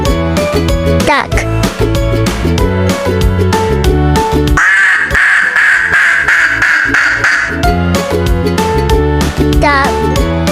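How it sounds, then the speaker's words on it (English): A duck quacks repeatedly over upbeat children's music, with a short stretch mid-clip where the quacking stands out more clearly above the backing tune. "duck."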